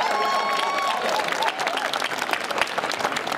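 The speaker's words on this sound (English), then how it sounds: "I would like to get a big round of applause for our host, MOSI, the Museum of Science and Industry." Audience applause for the host, the Museum of Science and Industry (MOSI), at a science show: a steady wash of clapping from a crowd, with a faint tone and some cheering mixed in, fading slightly toward the end.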